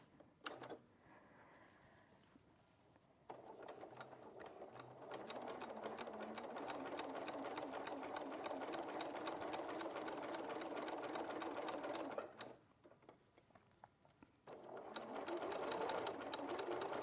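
A sewing machine stitches along a seam in a sewing studio, running in steady fast bursts with short pauses between runs, close and fairly loud with no talk over it.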